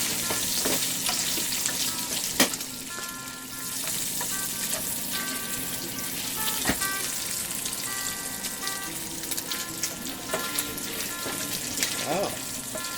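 Bacon sizzles and crackles steadily in a frying pan, with a dense, close hiss and scattered pops and a few sharp scrapes and taps of a utensil, continuing throughout.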